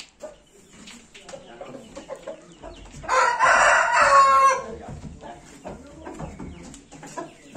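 A rooster crows loudly for about a second and a half in the middle, while hens cluck and people talk quietly around it.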